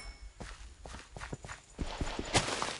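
Horse hooves clip-clop in Minecraft, a steady run of quick close thuds that grow slightly louder toward the end, with no voices.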